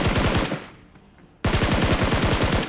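Sustained automatic gunfire from a shooter video game, a rapid loud burst that fades and breaks off, then a second burst starting abruptly, with no speech.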